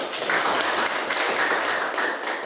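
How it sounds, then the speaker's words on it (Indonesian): A classroom gives a short burst of applause, with dense, steady clapping from a group that fills the room briefly. "Ya, kita kasih aplaus."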